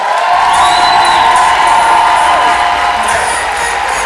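Loud, steady crowd cheering with whoops and shouts fills a live stage show audience for the whole stretch, a dense continuous roar with no single voice standing out.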